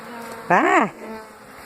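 A honeybee drone buzzing near a beekeeper's arm, a loud close buzz rising and falling in pitch for about half a second over quieter background hum, without talk.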